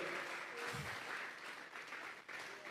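A church congregation claps together during a sermon, a steady dense wash of applause that continues throughout at moderate level.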